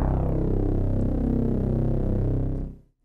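Sustained brass patch from the Xpand2 Digalog synth in Pro Tools, played unarpeggiated: one held chord that rings steadily for over two seconds, then fades out quickly to silence at the end.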